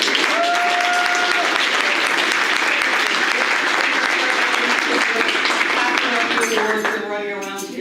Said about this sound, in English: he deserves a massive round of applause